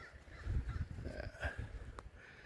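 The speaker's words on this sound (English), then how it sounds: "behind me was a bunch of other crows sitting over there" Crows caw outdoors near a tree and a low mound, a few harsh calls from more than one bird, moderately close, with breezy rustling underneath and no talking.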